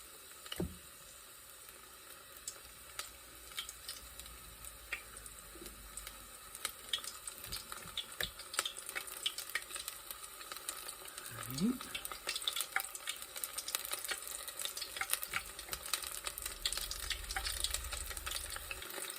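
Homemade battered onion rings dropped into 375-degree oil, a steady bubbling sizzle that builds and thickens over time, close and continuous with occasional clinks and stirring.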